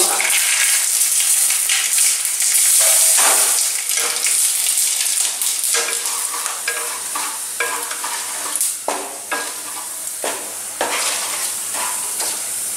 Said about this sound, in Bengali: এবার আমি গরম তেলে ফোড়ন দিয়ে দেবো অর্থাৎ দুটো তেজপাতা এক চামচ সর্ষে আর দুটো শুকনো লঙ্কা